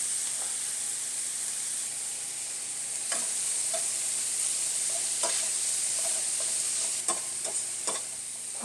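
Vegetables sauté in a pan for stuffed acorn squash, giving a steady close sizzle with scattered sharp clicks and scrapes from stirring, with no voices.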